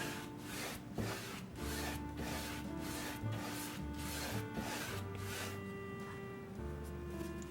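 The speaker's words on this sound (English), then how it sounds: "pick up a big flat brush and get the excess moisture off your canvas and spread it evenly" A big flat brush sweeps across a damp canvas while spreading excess moisture for acrylic cloud painting, giving repeated, rhythmic rubbing swipes at a steady close level over a faint background of sustained tones.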